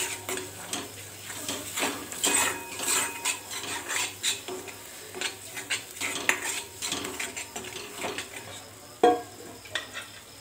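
Shev bhaji masala being fried in oil in a home kitchen, with repeated clinks and scrapes of a utensil against the pan over a faint sizzle, close and steady throughout.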